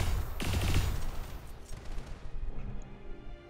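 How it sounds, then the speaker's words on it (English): BattleTech mech weapons firing in the game, a loud rapid volley of gunfire and blasts at the start that fades into scattered, softer impacts and rumbling, with no voices. "so let's get Tapper to fire next"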